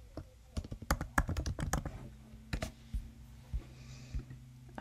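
Typing on a computer keyboard: a quick burst of close, sharp key clicks, then sparser taps after a pause, with a low steady hum beneath.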